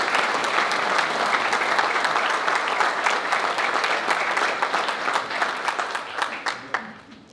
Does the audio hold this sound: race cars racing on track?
no